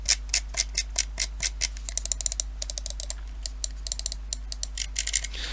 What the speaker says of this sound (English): the scroll wheel is very loud and feels very slow